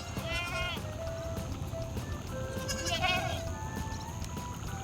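Two wavering bleats from goats and sheep on a mixed livestock farm rise over a steady background murmur, one early and one near the end, moderately close.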